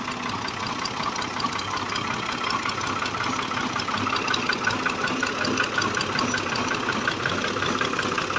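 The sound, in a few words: Fiat 480 tractor engine running a water pump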